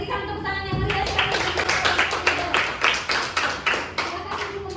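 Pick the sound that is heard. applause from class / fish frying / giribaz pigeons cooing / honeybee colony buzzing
applause from class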